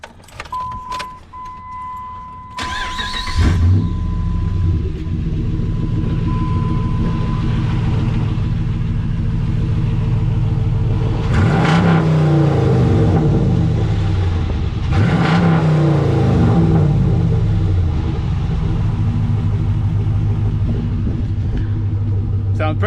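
Hemi V8 engine of a Ram 1500 pickup with the exhaust cut off, starting with a key click and cranking, then a loud, raw open-pipe idle with two strong revs rising and falling, close up and unmuffled.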